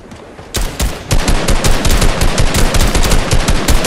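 Fortnite gunfire on PS5, a brief burst and then sustained rapid automatic fire, loud and close, with repeated sharp reports and no voices.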